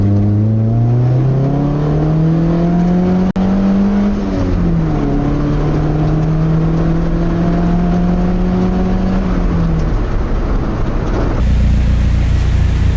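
A Nissan S13 on nitrous pulls hard in second gear from about 3,000 RPM, its loud, close engine note climbing steadily in pitch over several seconds, with a brief dip partway through, then cutting off near the end.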